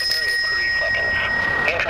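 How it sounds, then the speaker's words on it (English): Bicycle bell fitted to a loaded bug-out bike rings with a sustained bright metallic tone that holds nearly two seconds, close and fairly loud against background noise. "There's my bell or my signal."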